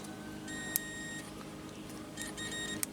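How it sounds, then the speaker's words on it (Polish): Short high-pitched electronic beeps from a lubrication-pressure warning buzzer sound in bursts, with a faint background hum and no talking. "Czyli piszczy brzęczyk."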